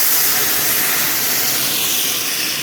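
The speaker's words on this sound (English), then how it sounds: "when there's one tank and it pushes out a large burst of steam" A single-tank steam unit lets out one large, sustained burst of steam, a loud, dense hiss filling the whole moment without letup and with no voices.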